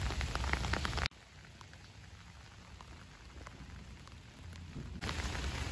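Rain falls on a backyard vegetable garden, a soft even hiss with faint pattering drops, quiet and steady throughout, louder at the start and end.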